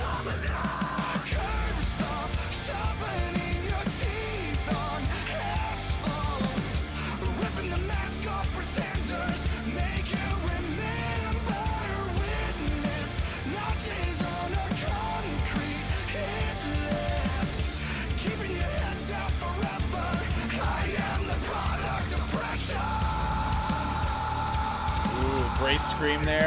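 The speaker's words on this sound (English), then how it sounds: "Great scream there." A harsh vocal scream in a metal song rides over dense, loud distorted guitars and pounding drums that run without a break.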